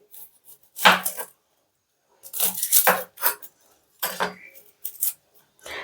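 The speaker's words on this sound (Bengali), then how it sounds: "এবার পেঁয়াজটা আমি কেটে ফেলি" A medium-sized onion is chopped on a board, giving a few separate bursts of knife strokes with quiet pauses between them, close and fairly clear, with no talking over the cutting.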